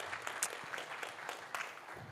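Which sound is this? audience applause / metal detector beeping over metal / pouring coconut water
audience applause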